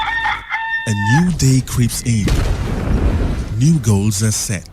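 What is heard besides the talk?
rooster crowing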